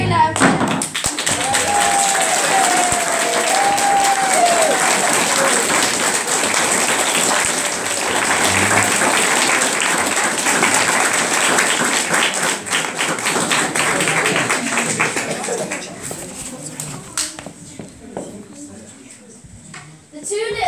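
Sustained audience applause and clapping after a children's stage show of The 3 Little Pigs, a dense, steady roar lasting most of the clip before thinning out near the end, with voices faintly mixed in.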